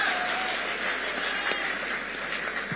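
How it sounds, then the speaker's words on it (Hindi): A stage audience at an AajTak event applauds, a broad continuous roar of clapping that stays level from start to finish with no voice on top. "तालियां बजाओ अपने लिए"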